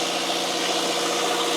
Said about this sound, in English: it's a long engine room